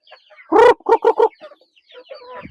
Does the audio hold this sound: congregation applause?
no